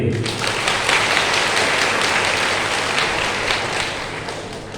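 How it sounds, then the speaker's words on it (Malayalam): Steady applause from a church congregation honoring the priest at a parish annual day celebration, a dense wash of clapping that holds evenly for several seconds and gradually thins toward the end. "അച്ഛന് നല്ലൊരു കൈയടിയെ കൊടുത്തേ"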